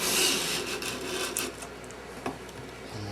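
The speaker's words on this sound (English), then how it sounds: "start to remove the grinding marks from the underside of the tip of the chisel" A steel chisel's flat underside is rubbed back and forth on a sharpening stone lubricated with honing compound, giving a close, steady gritty rasping with a small knock near the end.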